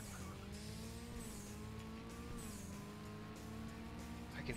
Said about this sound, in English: I can hear the other car behind me.